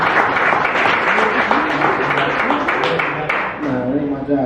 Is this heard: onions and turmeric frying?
no